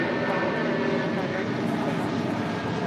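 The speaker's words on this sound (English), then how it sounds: "This is United Airlines Flight 1017 taking off to Newark on a 757-200." A United Airlines Boeing 757-200 taking off at LAX gives a steady, broad jet roar at moderate distance, continuous throughout with no clear voices.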